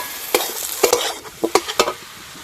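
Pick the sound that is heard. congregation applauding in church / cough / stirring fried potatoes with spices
stirring fried potatoes with spices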